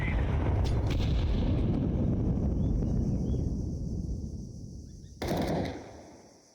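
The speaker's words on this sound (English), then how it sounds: "Throwing a grenade." A grenade explodes in Counter-Strike 2, a heavy booming blast with rumbling low-end decay that slowly fades, followed by a brief sharp crack near the end.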